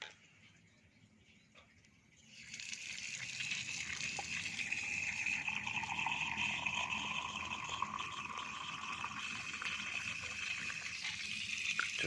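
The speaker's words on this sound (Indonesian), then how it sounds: "Ini keran kita, teman-teman sekalian." A water tap at a hydroponic setup is turned on after a quiet moment, releasing a steady, moderately loud rushing stream that continues without pause.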